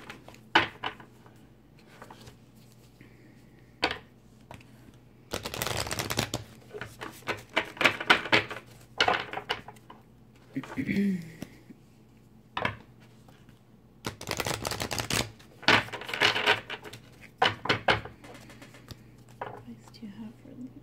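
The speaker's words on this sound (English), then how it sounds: "Just going to shuffle these real quick." Tarot oracle cards being shuffled by hand in repeated riffling bursts, close and crisp, with soft whispering and quiet talk between shuffles.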